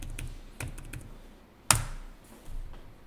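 A few scattered keystrokes tap on a computer keyboard during accounting data entry, soft and close, with one sharper key press in the middle of a quiet room.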